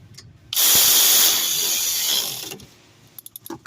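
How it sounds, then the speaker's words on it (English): A ratchet tightens the 14mm rear brake caliper bolts on a 2021 Toyota Camry with a loud, sustained buzzing ratchet run and a few short clicks afterward. "get your 14mm, and we're about to tighten these bolts"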